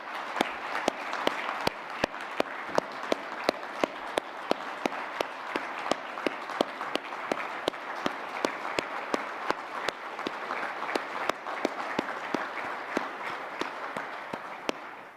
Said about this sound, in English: we give her a round of applause for her years of service